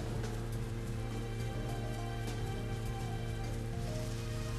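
Rain falling in the video game Deadly Premonition, a faint, steady wash of patter with soft scattered drops, continuous and without talk.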